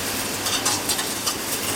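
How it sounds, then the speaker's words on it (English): Dry instant noodles crinkled and crushed by hand in a cooking class, a short burst of crisp, crackly rustling with a few sharper snaps, close and fairly loud. "I'm going to just crinkle them up like this"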